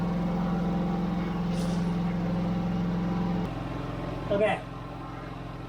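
A Westinghouse iGen4500 generator runs outdoors beside a trailer, a steady loud engine drone with a tonal hum that drops in pitch partway through, then a brief rattle, with a short spoken word.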